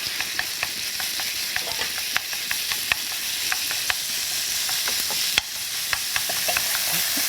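Minced beef stir-fries in oil, a constant close sizzle overlaid with regular sharp taps and scrapes from a spoon moving through the meat.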